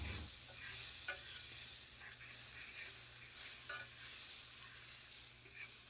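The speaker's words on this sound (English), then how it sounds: "I'm going to leave a little bit of the grease in the skillet to saute those onions around" Onions sauté in leftover pork grease in a skillet, giving a quiet, steady sizzle with soft scraping stirs now and then, close and alone.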